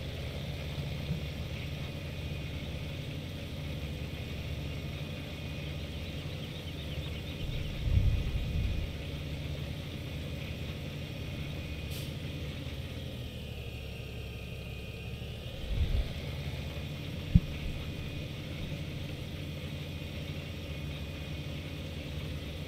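A tractor engine in Farming Simulator 2017 hums at a steady low idle throughout, close and even, with a couple of brief louder thumps and a short higher whine partway through, no talking over it.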